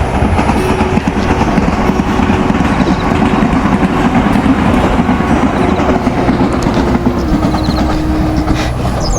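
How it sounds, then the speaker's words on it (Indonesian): A train rolls past through rice-field countryside in rural Japan, its steady loud rumble and rhythmic wheel clatter filling the whole stretch with no voices. "Ada itu juga tuh kereta api."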